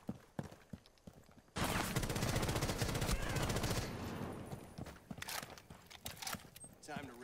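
A burst of rapid automatic gunfire in a Rainbow Six Siege round, loud and dense for about two seconds, framed by scattered single shots, clicks and footsteps.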